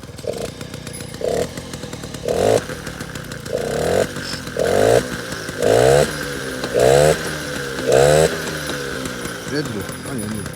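A 1988 Peugeot 103 Vogue moped engine being started and run, the small two-stroke revving in a series of short, rising buzzy bursts, about eight in a row, with a rattly idle between them.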